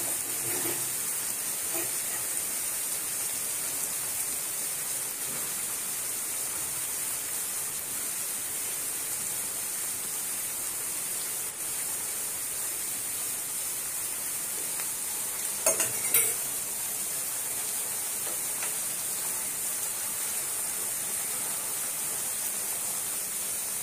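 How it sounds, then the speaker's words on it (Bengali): Hilsa fish kofta frying in a pan gives a steady bright sizzle throughout, with a few faint scrapes of stirring and one brief louder clatter midway. "এখন মাছগুলোকে একটু হালকা নেড়ে দিতে হবে,"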